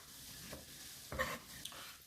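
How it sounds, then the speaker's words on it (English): Mushrooms sizzle faintly in a pan with shallots and garlic, and a utensil stirs them with a soft scrape partway through. "I'm going to add it into the pan with the shallots and garlic."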